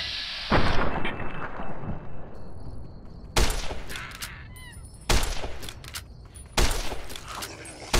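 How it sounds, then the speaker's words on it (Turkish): Gunshots in Fallout: New Vegas come as four loud, sharp reports spaced a second or two apart, each followed by a ringing decay, with faint game ambience between. "Kafadan vuracağım, kafadan vur."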